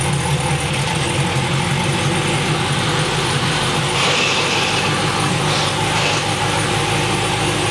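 A car engine idles and rumbles steadily as it rolls slowly into a driveway, a close, continuous mid-range hum with no speech.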